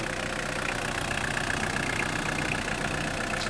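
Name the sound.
diesel car engine idling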